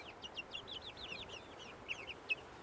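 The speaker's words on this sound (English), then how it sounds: "That's our rooster that we're raising right there." Faint, repeated chirping calls from a farm rooster, heard at a distance with a steady low background hum and no talk.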